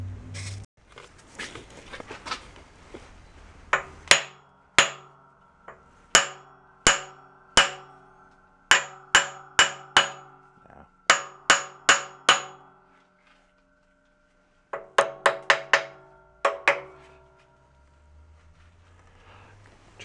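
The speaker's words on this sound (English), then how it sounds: "I'm gonna try wrapping it with a hammer and shocking it." Sharp metallic hammer blows strike a Toyota Tundra rear differential during a teardown, landing singly and in quick bursts of two to four with ringing decay, separated by pauses, loud and close with no talking.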